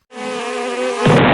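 Loud, close buzzing from the Queen Bee boss fight in a video game, a steady insect-like drone that suddenly shifts into a harsher, noisier burst after about a second, with no talk.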